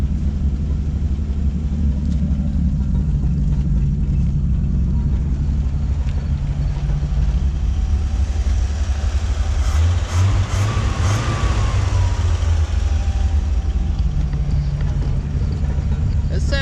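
A 1957 Chevrolet's engine idles with a steady, low rumble throughout, smooth and continuous, with a brief louder swell of mechanical noise midway.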